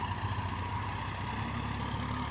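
A Sonalika 50 power steering tractor doing first ploughing on a field for potato planting, its steady engine drone continuous and close throughout, with no talk.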